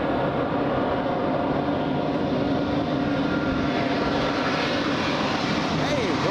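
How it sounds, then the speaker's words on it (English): A Virgin Atlantic Airbus A350-1000 arriving at LAX from London fills the air with a loud, continuous jet engine rumble and rush, with a voice also present. "Virgin Atlantic flying in from London, a 10-hour, 27-minute flight. The aircraft, the big one, A350 1000."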